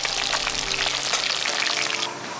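Plantains fry in oil, sizzling and crackling steadily with close, dense popping, a constant bright frying hiss and no talking.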